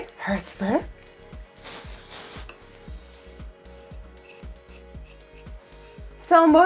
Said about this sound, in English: Hairspray, hairspray.